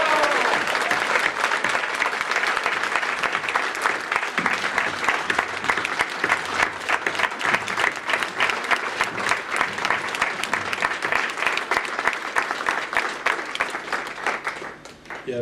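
A crowd at a tribute evening for Roi Kwabena applauds and cheers in a long, dense, steady roar of clapping that fills the room loudly and then fades at the end.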